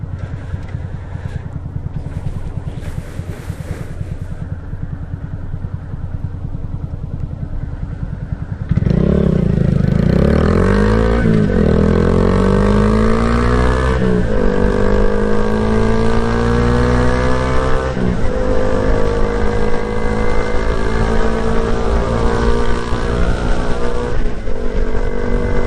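A 2022 Honda Grom motorcycle rides along the street, its small engine idling and then revving loudly through rising and falling gear pulls, close to the microphone and continuous, with speech partly mixed in.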